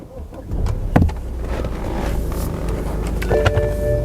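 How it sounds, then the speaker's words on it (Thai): A 2011 BMW 520d with an eight-speed gearbox starts up with a short cranking burst and catches into a steady low engine rumble, followed by faint electronic chimes near the end. "สตาร์ทรถนะครับ"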